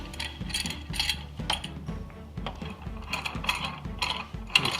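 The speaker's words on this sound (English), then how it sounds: "This time I'm going to clamp everything to the bench." A clamp is tightened to secure wood to a workbench, giving a series of close ratcheting clicks and mechanical turns in irregular bursts, with no talking.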